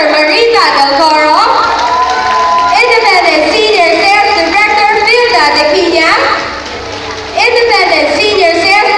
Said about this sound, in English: give them a big round of applause as they leave the stage